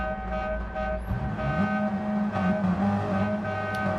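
Several race car engines in a video game drone and rev steadily at once at Watkins Glen, a layered mechanical hum with rising pitch, no talking over it.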